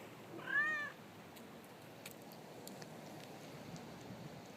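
A single short cat meow rises and falls near the start outdoors, fairly close, then gives way to a steady faint background hiss with a few tiny clicks.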